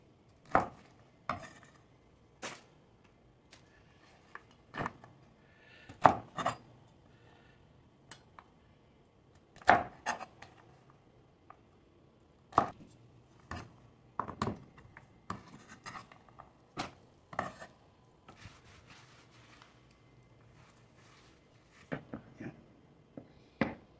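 String beans are chopped on a cutting board while vegetables are prepped for sinigang, giving sharp, close knife taps that come in uneven bursts with short pauses between.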